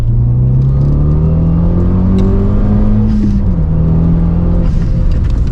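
A Renault Megane 225 F1 with traction control off accelerates hard, its engine note climbing steadily through the revs, then dipping briefly at a shift before rising again, loud and close from inside the car.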